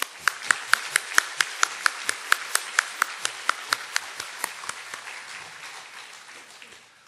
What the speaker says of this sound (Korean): 박수로 한번 축하해 주세요